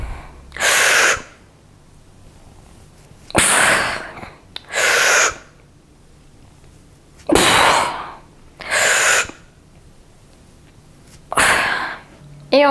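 Heavy breathing during bench press reps: six loud, forceful exhales or sharp breaths in a steady pattern, each about a second long, separated by quiet pauses, with no talking.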